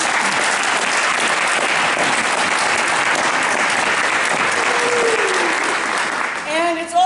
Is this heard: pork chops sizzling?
no